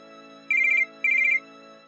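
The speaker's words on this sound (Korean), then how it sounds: "다음날 전화." A telephone ringtone sounds twice: two short, bright bursts of electronic trilling with a brief pause between them. The rings are clear and stand alone over a faint steady background hum.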